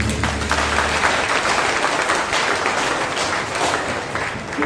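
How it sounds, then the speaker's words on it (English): A prayer meeting audience claps steadily and loudly in a dense, sustained round of applause that carries on without pause for several seconds. "Let us give mighty clap to them."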